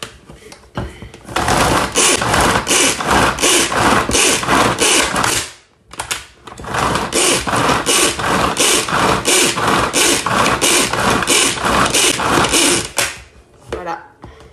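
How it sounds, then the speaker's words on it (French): A Tornado hand chopper dices an onion with dense, fast clattering and whirring in two long bursts split by a brief pause, loud and close. "je vais hacher mon oignon avec le Tornado"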